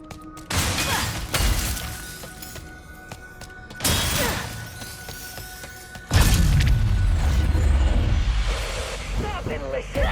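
Safety glass shatters in Ratchet & Clank: Rift Apart, with several loud crashing bursts separated by brief pauses and a heavy impact near the end, over game sounds.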